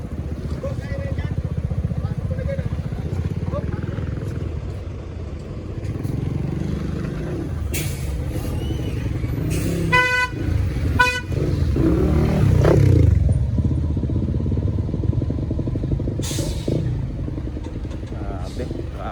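A road traffic jam caused by a truck stalled mid-road: motorcycle and car engines idle and rumble nearby, with brief clattering and a few horn-like tones, while people talk over the noise.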